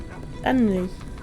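A single short dog bark or yelp rings out in the Sherlock Holmes The Awakened video game, brief and fairly close, with game speech around it.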